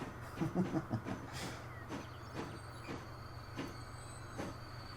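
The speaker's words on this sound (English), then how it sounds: "Right, we're letting the grain train past." A grain freight train passes on a Transport Fever 2 railway, heard as a low steady rumble with repeated rhythmic clacks of wheels over rail joints, moderately loud and without talk.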